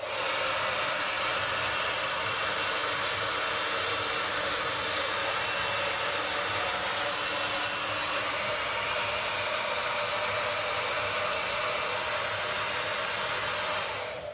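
A handheld hair dryer blows steadily and loudly at close range while drying a cowlick, a continuous broadband whoosh that stays even from start to finish before cutting off at the very end.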